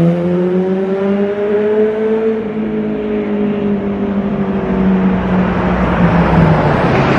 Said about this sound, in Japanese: Oh man, that just gives me the jitter bumps to hear the engine like that.